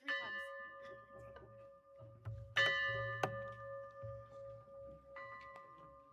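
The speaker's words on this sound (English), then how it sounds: "You gotta ring the bell first, Kate." A church bell rings three clear metallic strikes, each with a long ringing decay, in a quiet room before a Sunday service, with faint low murmuring voices underneath.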